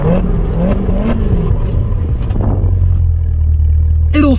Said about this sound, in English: Let's do a 60 to 0 test and see how well this car stops.